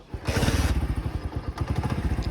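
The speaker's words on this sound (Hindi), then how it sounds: "बाइक को करते हैं स्टार्ट।" A motorcycle starting outdoors at night, with a short burst of cranking followed by a rapid, throbbing engine putter close by, pulsing steadily as it catches and idles.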